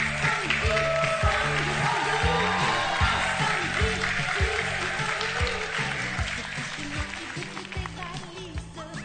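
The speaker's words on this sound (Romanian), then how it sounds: "Aplauze pentru Doina Teodoru." A television comedy audience applauds comedian Doina Teodoru as she comes on, steady loud clapping mixed with music beneath it that slowly fades out.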